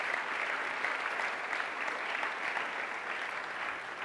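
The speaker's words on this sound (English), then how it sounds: "give them a round of applause" Round of applause from an audience honoring a hard-working group at a gathering: even, continuous clapping heard from some distance, fairly soft and steady for four seconds.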